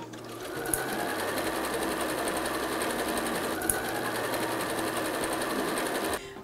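A sewing machine stitches a quarter-inch seam along a Shoofly quilt block, a steady continuous motor whir running close and even for several seconds, with two brief sharp clicks and a stop at the end.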